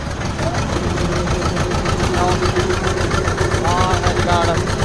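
A steady tractor engine rumbles continuously near the listener, with faint voices and a brief high whine riding over the drone.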